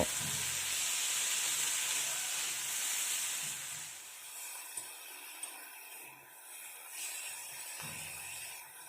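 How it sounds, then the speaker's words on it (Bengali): Malabar spinach fries in a pan with salt and turmeric, producing an even, soft hissing sizzle that eases slightly over time, with a couple of faint taps and no speech. "এবার এগుলোকে আমি মিনিট 2 ভেজে নেব"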